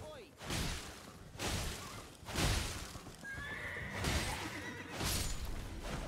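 Horses whinny and hooves clop in bursts during a mounted duel in the video game Elden Ring, with whooshing game sound effects in between.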